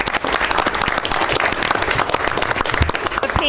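A county board meeting audience breaks into steady, dense applause, many hands clapping close and loud for a few seconds with no one speaking over it.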